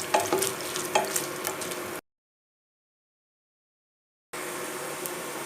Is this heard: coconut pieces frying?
yes